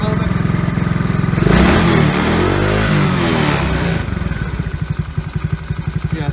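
Small 110cc TaoTao ATV engine idling, then revved up hard for a couple of seconds before dropping back to a steady, loud chugging idle close by.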